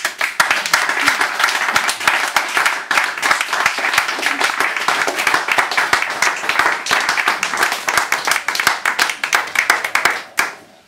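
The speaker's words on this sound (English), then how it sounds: "so please, more applause" Audience applauding after a reading of spiritual poems, dense steady clapping sustained loud and close for about ten seconds before cutting off, with faint voices underneath.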